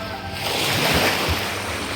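Sea waves washing against a shore, a rising surge of surf with wind rushing across the microphone, close and fairly loud.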